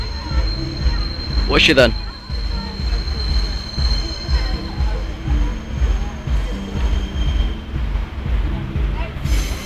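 A train crosses Lincoln Central level crossing, its wheels letting out a brief high metallic squeal over a steady rolling rumble, while someone talks nearby.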